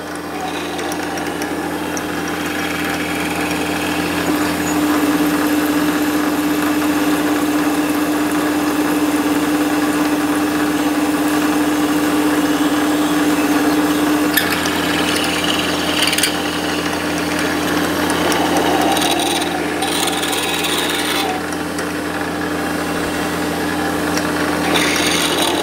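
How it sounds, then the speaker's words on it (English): A drill cutting aluminium while making a chuck key handle, a steady whirring grind with a sustained tone that runs unbroken for about twenty-five seconds, with scraping and clattering bursts late on. "nice drill this. It's obviously cutting really well."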